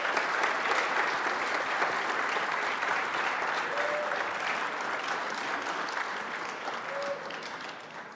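Audience applause for award winners at the Global Sustainability Challenge finale at TUM Munich, a broad, sustained roar of clapping from a large crowd that continues evenly for several seconds before easing off slightly at the end.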